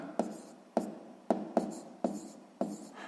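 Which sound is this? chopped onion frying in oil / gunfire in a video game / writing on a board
writing on a board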